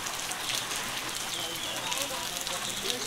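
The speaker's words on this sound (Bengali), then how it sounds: "কিন্তু বৃষ্টি মোটে থামতেছে না" Steady rain falls in a dense, even patter close by, continuous for the whole stretch with no pause.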